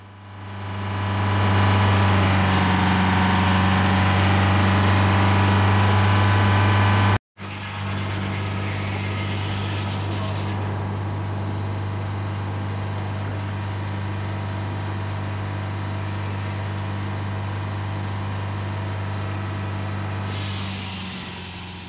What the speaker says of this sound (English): it's a two-cycle engine, and that's why it has a reputation, and they call it the Screaming Jimmy